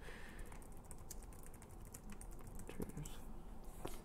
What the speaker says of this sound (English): Let me type it in.